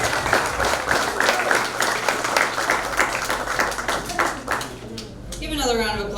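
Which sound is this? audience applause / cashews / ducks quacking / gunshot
audience applause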